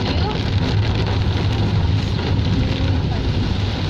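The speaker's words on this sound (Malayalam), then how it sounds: "വീണ്ടും വെള്ളച്ചാട്ടം" A waterfall beside the Wayanad Churam ghat road in Kerala gives off a loud, steady rushing roar of falling water, dense and unbroken from start to finish.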